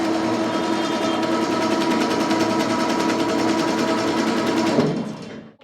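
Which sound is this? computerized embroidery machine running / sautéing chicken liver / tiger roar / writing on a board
computerized embroidery machine running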